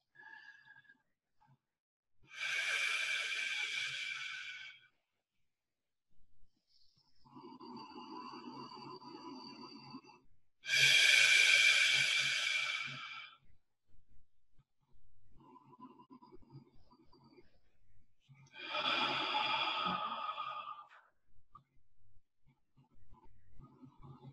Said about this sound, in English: So let's take 4 deep breaths.